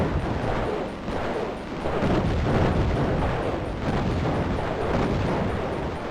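A mega bomb goes off in the video game Raptor: Call of the Shadows. It plays as a loud, sustained, rumbling explosion roar that fills the whole stretch without pause.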